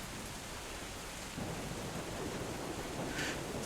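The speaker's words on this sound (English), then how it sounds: "You notice after a while the sounds of the forest and the rain kind of picking up." Heavy rain pours in a forest, a dense, steady roar of rainfall that thickens and grows slightly louder partway through, with no voices.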